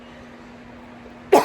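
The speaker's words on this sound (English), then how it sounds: "As if though my coughs didn't give it away, I am fucking sick." A sick person gives one short, sharp cough at the very end, preceded by a quiet room with a low steady hum.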